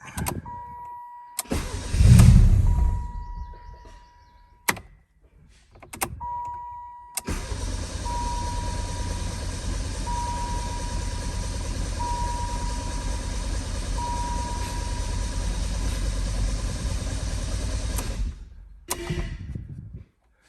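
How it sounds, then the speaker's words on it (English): An old 1987 Yugo that sat for 15 years cranks over in a few short, uneven bursts, then settles into a long steady engine run with a faint whine before cutting off, close by, no talking. "we should just be able to crank this thing over a few times and purge some of that bad gas up through the system and get her started"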